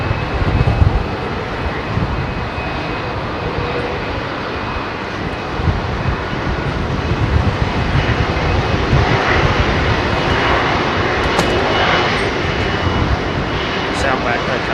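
A heavy jet airliner departs from runway 27R at London Heathrow Airport, its engines producing a loud, steady, broadband roar that swells slightly and continues throughout.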